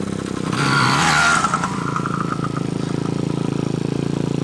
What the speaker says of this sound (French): pour démarrer, on leur demande de se mettre au point mort, de ne pas accélérer et de kicker